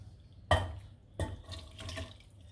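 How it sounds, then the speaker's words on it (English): Cooking liquid from a seafood gratin poured through a strainer into another pot, two sudden splashing pours followed by a soft, trickling wash of liquid. "I'm going to strain the liquid into another pot"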